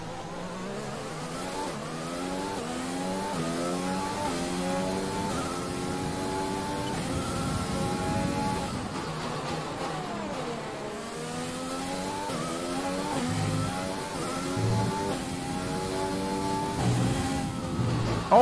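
Formula 1 race car engine from the F1 2020 video game on a flying qualifying lap at the Vietnam Grand Prix, a loud sustained high-revving whine rising and falling through repeated gear shifts and braking, with no talk.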